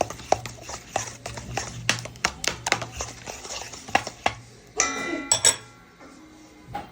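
A mixture of ghee and oil being stirred in a pan with a utensil. Close, irregular metallic taps and clinks come in quick succession, followed by a short scraping stir.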